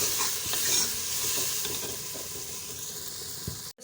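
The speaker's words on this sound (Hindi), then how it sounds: "और इसको अच्छी तरह फ्राई कर लेंगे।" Steady oily sizzling and crackling of garlic-ginger paste frying in hot oil in a pan, with occasional stirring scrapes, close and moderately loud before a brief clatter at the end.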